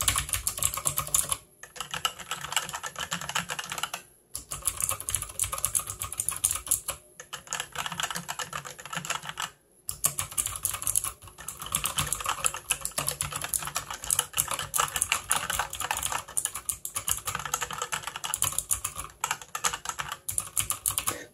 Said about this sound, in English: we can hear this clicking noise with the blue switches